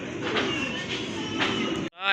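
A male pigeon coos in soft, repeated low pulses close by, ending abruptly with a brief voice afterward.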